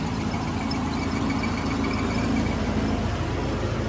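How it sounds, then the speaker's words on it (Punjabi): A tractor pulling a rotavator through a farm field makes a steady, dense engine drone with rough low-end vibration, running continuously at close range without voices. "ਬਹਾਈ ਚੱਲ ਰਹੀ ਹੈ ਰੂਟਾਵੇਟਰ ਦੇ ਨਾਲ ਆਹ ਟਰੈਕਟਰ ਨਾਲੇ ਰੂਟਾਵੇਟਰ"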